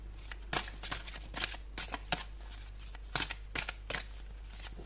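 Oracle cards are shuffled by hand in quick, repeated riffling flutters and soft slaps, close and fairly quiet over a steady low electrical hum.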